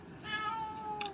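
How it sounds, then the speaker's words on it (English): A cat meows once in a long, drawn-out call close by, its tone gliding steadily downward, with a brief clatter near the end in a room at a craft desk. "Very noisy cat."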